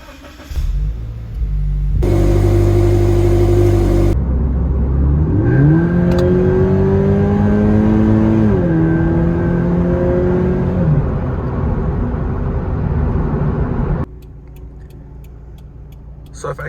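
A Toyota 86 sports car drives along on its way to an exhaust shop for a new exhaust and tune. The engine is close and loud, revving up and climbing through the gears, then the noise cuts off abruptly to quiet.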